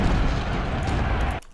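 Musket volleys and artillery fire in the Ultimate General: Civil War video game: a dense, loud roar of overlapping gunshots and booms that cuts off abruptly near the end.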